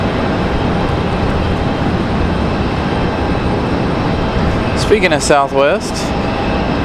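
Steady broadband jet roar fills the air at Raleigh-Durham International Airport as an airliner taxis out, loud and constant throughout, with someone speaking briefly over it near the end.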